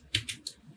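Light typing on a computer keyboard while entering text in Photoshop, three quick soft key clicks in a brief uneven burst, faint and close over low room noise.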